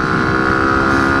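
Engine of a Romet ADV 125 FI PRO motorcycle running at idle, a steady, even hum close to the microphone, loud and unbroken.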